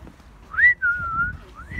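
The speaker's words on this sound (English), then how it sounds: "Can you whistle" A person in a park whistles a short, clear tune of rising and sliding notes, close and fairly loud over faint outdoor background.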